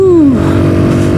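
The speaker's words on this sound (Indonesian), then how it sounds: "Ini knalpotnya agak berisik, tapi nggak terlalu berisik banget." A home-built motorcycle revs loudly and close, its noisy exhaust rising to a high whine that then falls back into a steady rumbling idle.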